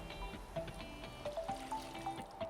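Water trickles and splashes as it is poured into drumstick and raw mango sambar masala, a soft, gentle liquid pouring sound with faint clinks, close and quiet, without talking.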